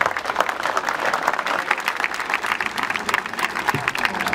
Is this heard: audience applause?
yes